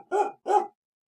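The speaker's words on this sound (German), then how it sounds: "Ja, wuff, wuff," Two quick, loud barks sound close by, then silence.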